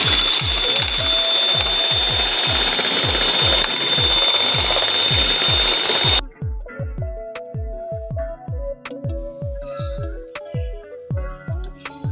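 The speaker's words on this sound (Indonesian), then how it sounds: "Kita mixer dengan kecepatan tinggi." Electric mixer whipping egg whites and sugar at high speed for a cheesecake, a steady close whirring drone with rhythmic beating clicks, followed by a quieter stretch with music-like tones.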